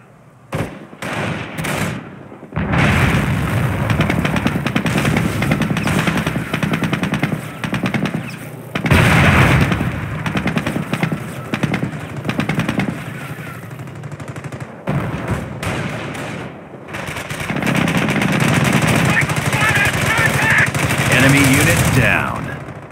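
Gunfire and artillery hit a base in the PC video game Company of Heroes, with dense bursts of machine-gun fire, booming blasts and rumbling explosions coming in loud waves with short lulls, while game voices call out over the battle.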